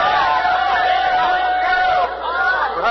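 Crowd noise at the 1830 run of the Tom Thumb steam locomotive: a loud, continuous wash of cheering and shouting voices from many people, with a sustained tone running beneath.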